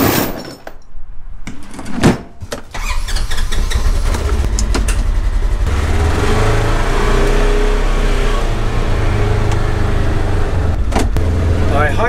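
A Polaris Ranger utility vehicle clunks as a door or latch shuts, then its engine drones steadily and loudly while driving, a close continuous rumble to the end.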